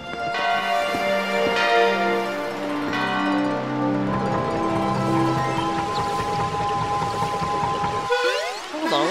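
Bells ring in Super Mario Sunshine, layered with the game's tonal background music in a steady, fairly loud sustained wash, with a brief sweeping sound near the end.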